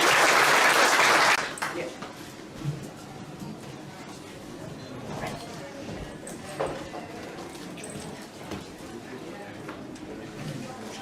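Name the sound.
audience applause for Tom Carroll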